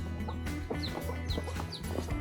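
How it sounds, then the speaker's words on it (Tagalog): Chickens cluck repeatedly with short, scattered calls over a constant outdoor hum on a mountain hiking trail in the Philippines, with no talk over them. "Ay, manok! May anak din siya."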